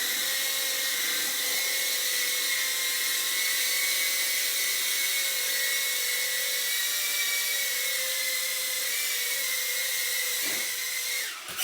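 A GEPRC CineLog20 HD drone's motors spin with a steady high-pitched whine, close and continuous, briefly changing pitch near the end, with no voices.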